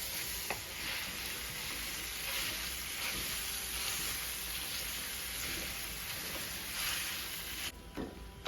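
Pork sausage and breakfast sausage ends sizzle steadily in a skillet, a dense, even crackle of frying fat that carries on for the whole stretch with a few sharper pops, then briefly drops out near the end.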